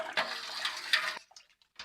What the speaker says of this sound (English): while I'm pouring cold water into this, the water will wash out the can